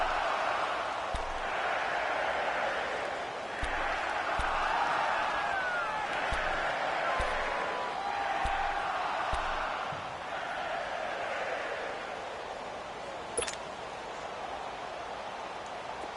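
Stadium crowd in an American football video game on PS4, a steady roaring wash of cheering that swells and holds for the whole stretch, with faint periodic thumps underneath and no speech over it.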